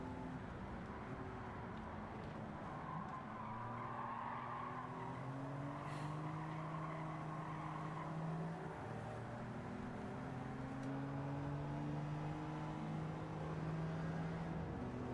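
Race cars in Gran Turismo 7 on PS5 roar with rising and falling engine notes as they overtake, steady and loud throughout with layered engine tones and occasional tire squeal.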